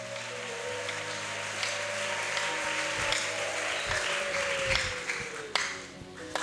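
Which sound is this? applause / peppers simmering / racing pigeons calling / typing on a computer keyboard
applause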